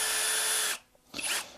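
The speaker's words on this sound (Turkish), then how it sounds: "Biraz hızlı deleyim madem öyle." A Topshak TS-ED5 20V cordless drill bores into wood at higher speed, a loud steady whine that stops abruptly, then a brief second burst of drilling after a short pause.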